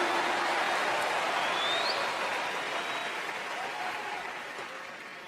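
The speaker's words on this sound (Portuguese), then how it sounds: "Você consegue aplaudir ao Senhor pela sua palavra agora?" A church congregation applauds steadily throughout, a dense, even wash of clapping that fades slightly toward the end.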